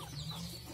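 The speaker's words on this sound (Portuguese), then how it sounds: "Ali tá a garnizezinha escandalosa chocando." A noisy bantam hen broods on her eggs, clucking in a steady low repeated call, close and fairly quiet throughout the short moment.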